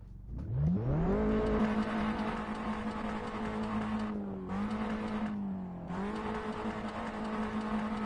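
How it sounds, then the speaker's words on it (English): A race car engine in the driving game Assetto Corsa revs up loud and close, holding a steady high whine, with brief dips and pitch drops at gear changes before climbing again. "Let me know what you think of the engine, guys."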